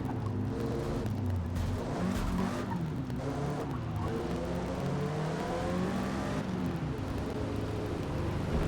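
A car in the Forza Motorsport racing game roars along with its engine revving and tires skidding and squealing, a loud, continuous stretch of driving noise.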